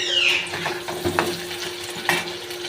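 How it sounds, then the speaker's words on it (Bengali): Onions and potatoes frying together in a pan for a spicy chicken and potato kosha, a steady close sizzle with occasional spoon scrapes and stirring clatter throughout. "তার জন্য পেঁয়াজের সাথে আলুটা দিয়ে একটু ভেজে নেব"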